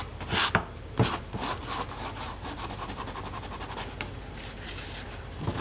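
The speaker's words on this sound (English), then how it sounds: "If you just give it a little more of a sand, you're gonna get through that." Hand sanding a primed cabinet with a 150-grit sanding sponge scrapes back and forth in quick repeated strokes, a rough rubbing sound close by with no voices.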